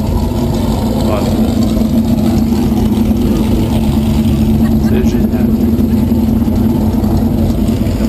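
A deep, steady engine of a classic Aston Martin racing car idles close by with a low rumble at Le Mans Classic 2016, while someone talks over it.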